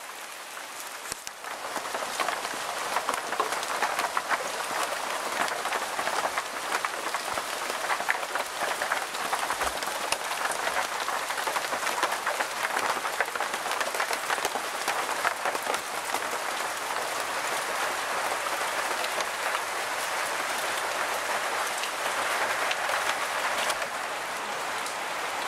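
Steady rain falls in a wet outdoor setting in New Zealand, a continuous broadband hiss that stays even and fairly loud throughout, with no talk.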